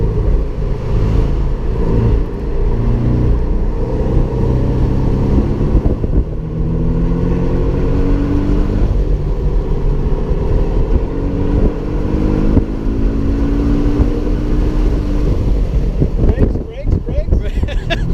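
Engine of a 2017 Porsche 718 Boxster S with a 2.5-litre turbo flat-four, heard from inside the car as it pulls away and accelerates, a loud steady drone with rising pitch sweeps, while people talk over it.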